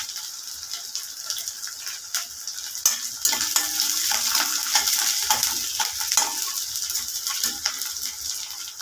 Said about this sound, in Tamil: கருவேப்பிலை, வெங்காயம் சேர்த்திக்கலாங்க